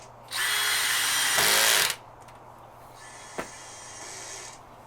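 Power drill driving two screws into a Miller Marine fillet table, a loud whirring burst of about a second and a half ending in a harsher high spin, then quiet with a sharp tap and a fainter second whir.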